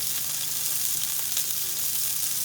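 Swiss steak sizzles steadily in a hot pan, a bright crackling hiss with small pops, fairly quiet and continuous with no voices.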